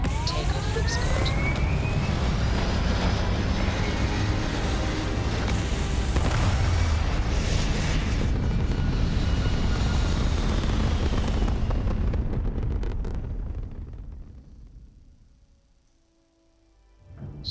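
Spaceship lifting off in a space exploration video game: a loud, sustained roaring rumble with booming thrust that holds steady for about thirteen seconds, then fades away toward near silence.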